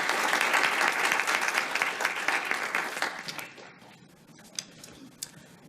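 An audience applauds to welcome a speaker at an immigration event, with dense clapping that fades after a few seconds into scattered individual claps.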